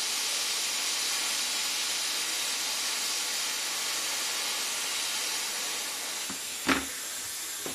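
Plastic welder melting welding rod into a motorcycle fairing repair, a steady broadband hiss running close and unbroken for several seconds, with a brief knock near the end.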